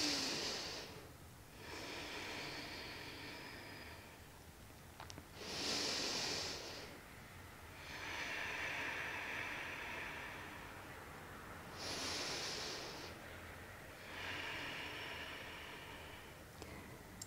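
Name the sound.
deep breathing during yoga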